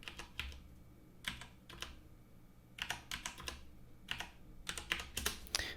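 A Wi-Fi password is typed on a computer keyboard in quick bursts of close, crisp key clicks separated by short pauses, with no voices.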